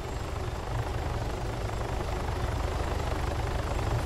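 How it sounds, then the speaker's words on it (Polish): A helicopter in the video game Arma III, heard as a steady, loud rotor throb with dense low-frequency chopping that continues unbroken throughout, with no voices over it. "O, Zeda w helikopterze jest też"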